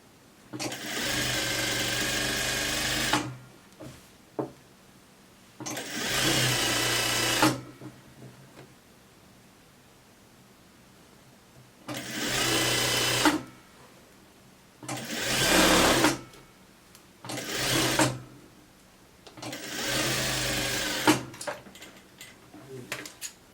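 A domestic sewing machine stitches thick knit sweatshirt fabric in several loud mechanical runs of a few seconds each, separated by quiet pauses with small handling clicks and brief soft talk.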